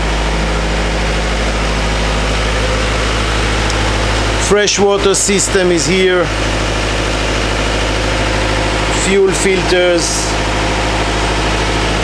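Kohler generator running steadily in a motor yacht engine room, a loud constant low hum and drone throughout, with someone speaking over it in two stretches.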